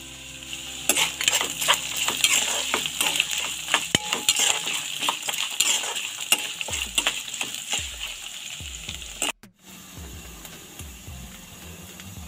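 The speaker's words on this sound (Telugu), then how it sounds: "వీటిని ఇవి కూడా వేసుకొని ఫ్రై చేసుకోవాలి." Thinly sliced shallots frying in a pan, a crackling sizzle broken by repeated metal spoon scrapes and clinks against the pan, close by, then a short pause and quieter sizzling.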